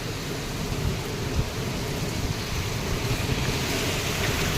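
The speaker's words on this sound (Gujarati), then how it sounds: "હા વીજળી જોવો ફૂલ વરસાદ છે મિત્રો." Heavy rain in Amreli during a thunderstorm, with lightning about, gives a thick, steady roar of falling water layered over a deep low rumble, with a few brief swells in loudness.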